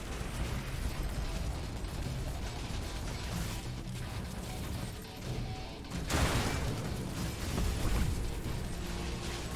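Heavy gunfire and explosions in the first-person shooter Mothergunship boom and crackle densely throughout, with a louder burst of blasts about two-thirds of the way in and no talking.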